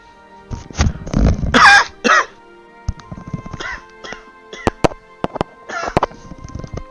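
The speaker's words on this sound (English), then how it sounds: "Sorry for that cough, by the way." Several harsh coughs burst out close to the mic, followed by scattered throat-clearing noises and sharp clicks.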